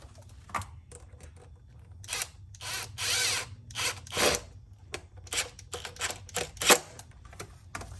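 A tool tightens a 7mm clamp on a K&N cold air intake tube in a 2.7 Bronco engine bay, producing short, close whirring and ratcheting bursts separated by brief pauses over a faint hum.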